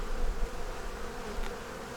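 Honeybees buzz around a strong hive in a thick, continuous hum up close, with one bee briefly passing nearer amid the steady swarm.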